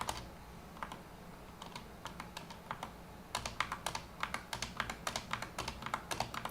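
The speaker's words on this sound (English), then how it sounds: "Me typing on my keyboard." Typing on a computer keyboard, quiet and close, with scattered individual keystrokes at first that build into a faster, denser run of clicking, no voices.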